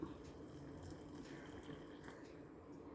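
Boiled water is poured onto rice flour in a bowl, a quiet, continuous liquid pour that runs steadily for a few seconds at low volume with no voices.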